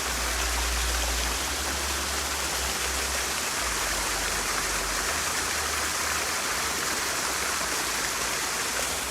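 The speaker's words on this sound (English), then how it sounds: "The waterfalls and shit." Outdoor waterfalls rushing, a steady broadband roar of falling water that stays loud and unchanging throughout, with wind rumble buffeting low underneath and no voices.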